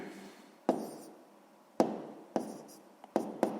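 Pen or pencil writing by hand on paper during a sixth-grade maths exercise, a soft continuous scratching broken by several sharp taps as the pen touches down, close and quiet.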